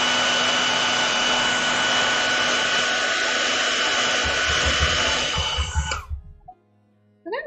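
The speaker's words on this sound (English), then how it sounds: "I'm going to turn on my hairdryer for 1 second, so I apologize if it's noisy" A hairdryer runs loud and steady for about six seconds, a dense continuous blowing whir with a low motor hum, then cuts off abruptly and the room goes quiet.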